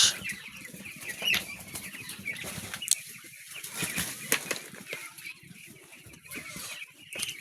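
About 160 ten-day-old broiler chicks cluck and chirp in a busy flock, with wings flapping and scuffling close by.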